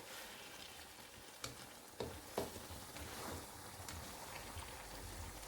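Stuffed bitter gourd (karela) fries in oil with a steady, broadband sizzle, faint and even throughout, broken by a few small clicks and knocks of utensil against the pan.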